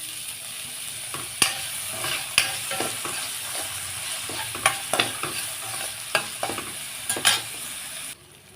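Onion, tomato and curry leaves sauté in a pan with a soft, steady sizzle, broken by repeated sharp scrapes and taps of a spoon stirring. The scrapes come at uneven intervals before the sound cuts off near the end.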